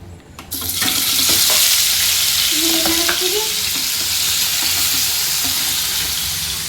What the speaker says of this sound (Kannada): ಈಗ ಇದಕ್ಕೆ ನಾನು ಸ್ವಲ್ಪ ಫ್ರೈ ಮಾಡ್ಕೊತೀನಿ